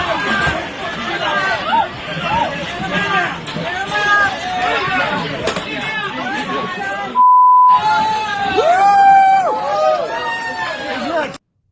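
A rally crowd for Greg Abbott erupts as a pro-Palestinian disruptor is dragged out, with loud overlapping shouting and chatter close by, one brief steady beep cutting in near the end.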